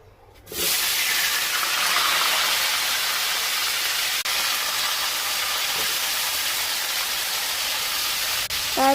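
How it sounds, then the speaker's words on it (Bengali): Potatoes frying in a little oil in a wok, a loud sizzle bursting in suddenly as they hit the oil, then holding as a steady close hiss with a few light clinks. "এরপর কড়াইয়ে একটু সামান্য তেল দিয়ে মা আলুটাকে ভেজে নেবে ভালো করে।"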